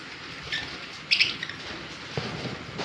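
Faint, sparse chirps from lutino Fischer's lovebirds, adult birds, a few short bursts over a quiet background hum.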